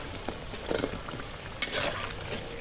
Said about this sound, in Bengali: বড়াগুলো ভেজে নিই